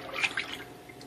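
Water swished around inside a toilet tank with a stick-like water saver gadget to mix in dye, a brief close splashing with a couple of bright sloshes, no talking.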